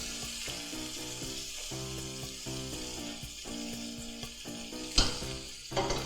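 Spanish mackerel fish steak frying in a pan, a moderate steady sizzle with soft crackles and a couple of louder clatters near the end, heard up close without speech.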